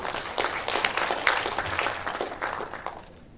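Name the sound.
audience applause for Boston University team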